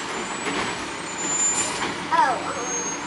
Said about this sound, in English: Oh, there's the garbage truck.